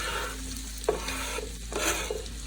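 Onions hit hot bacon fat and melted butter for loaded potato soup, sizzling steadily and close up while a spoon stirs them with a couple of soft scrapes, no talking.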